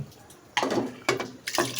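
Cooked food from a pressure cooker is tipped into another pot in three wet, splattering pours, each a sudden close burst that trails off quickly.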